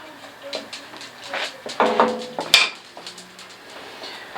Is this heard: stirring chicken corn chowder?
yes